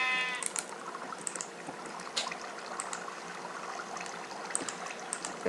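Minecraft sheep bleating a few times over a steady background of running water, with scattered small clicks and pops throughout.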